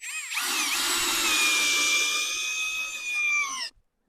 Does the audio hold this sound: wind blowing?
no